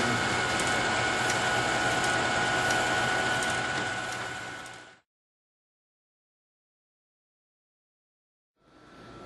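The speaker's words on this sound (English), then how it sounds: "when the sensor is covered, the conveyor will run" An OKI pro900DP feeder's shingling conveyor running, a steady mechanical whir and hum that stops abruptly halfway through, followed by silence, then starts up again near the end.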